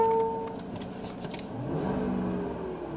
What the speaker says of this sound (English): You'll see this ridiculous cold idle of 1500 RPM right there, which is, it's actually more than 1500 when it starts up.